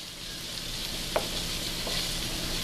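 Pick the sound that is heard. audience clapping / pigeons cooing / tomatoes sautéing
tomatoes sautéing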